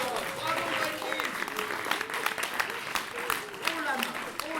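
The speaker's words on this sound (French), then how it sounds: "on peut l'applaudir bien fort" Audience applause for Jean-Émeric at a theatre show, Le plus grand Petit Théâtre de la Passion, steady and fairly dense, with voices and shouts mixed in over the clapping.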